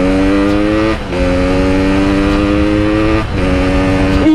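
Yamaha RX King two-stroke motorcycle engine revving hard during a test ride, loud and close with a steady buzzing drone that briefly dips twice between throttle blips.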